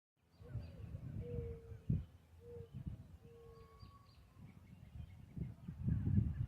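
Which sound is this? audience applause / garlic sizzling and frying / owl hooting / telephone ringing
owl hooting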